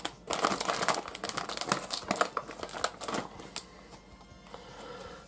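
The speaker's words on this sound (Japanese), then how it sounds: "早速開封していきたいと思います。 まずは一袋目でございます。" A bag of baseball-card potato chips torn open up close, loud crinkling plastic rustles in quick bursts, then quieter handling as the wrapper settles.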